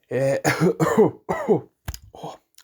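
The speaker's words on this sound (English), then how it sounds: "bit of a cough" Someone close by coughs in a string of harsh bursts, followed by a couple of quieter throat-clearing coughs.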